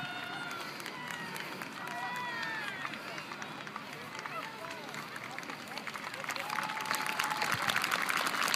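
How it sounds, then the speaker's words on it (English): An audience applauds with whistles and cheering voices mixed in, the clapping steady and then swelling louder toward the end. "Great round of applause for those guys."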